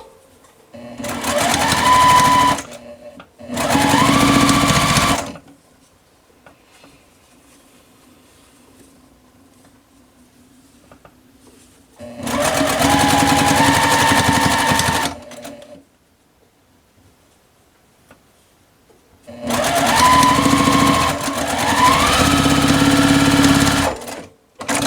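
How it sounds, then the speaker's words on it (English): A sewing machine stitches quilt block rows together in several short bursts of rapid mechanical whirring, each a few seconds long, separated by quiet pauses, close and clear. "then I'm going to sew this row together"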